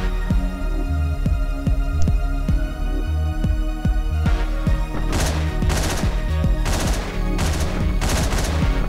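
Gunfire in the video game Hotline Miami, with sharp repeated shots in uneven bursts, some rapid like a machine gun, loud over a throbbing game soundtrack.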